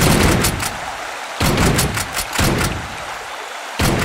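Gunshots from the Big Buck Hunter arcade hunting game: four loud, sharp blasts spaced about a second apart, each followed by a short decaying echo.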